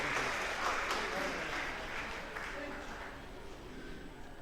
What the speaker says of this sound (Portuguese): palmas para o pastor Joed aqui